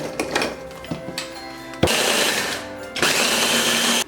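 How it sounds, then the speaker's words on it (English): A small Ninja bullet blender grinds Oreo cookies in two loud, steady bursts of whirring motor noise, the first from about two seconds in and the second after a brief dip, with a few clatters beforehand. "I have this little Ninja bullet thing, so I'm gonna use that."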